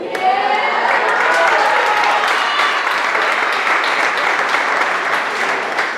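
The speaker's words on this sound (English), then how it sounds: "I say everyone give one more round of applause" An audience at a spring athletic awards ceremony claps steadily, a dense, sustained round of applause with scattered cheers, loud and close throughout.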